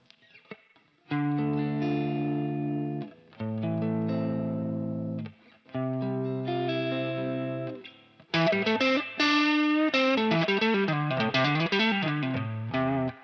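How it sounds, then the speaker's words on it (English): Electric guitar played through a Boss AR-1 reverb pedal, sustained chords in separate phrases with brief gaps, then a busier melodic line with a lingering reverb tail, loud and close, no voices. "So let's now put the reverb on, which is, for example, now I'm using the Boss AR1"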